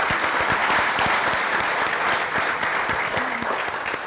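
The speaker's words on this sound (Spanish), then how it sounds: "Un aplauso, por favor, para Alberto." Audience at a Spanish-language talk on nature and the future claps steadily after a speaker is introduced, dense applause from a seated crowd, fairly close and sustained throughout.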